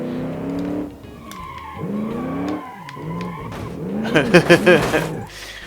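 The Wingadinga Buster Grand Commando race car in the game Automation, driven hard on a test track: the engine revs rise and fall between shifts, ending in loud, close tire squeals, with faint talk underneath.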